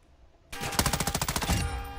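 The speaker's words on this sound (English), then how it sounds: "Who's still shooting?" Gunfire in the video game Call of Duty DMZ, quiet at first, then a sudden loud rapid burst of automatic fire with about a dozen evenly spaced shots, close and alone.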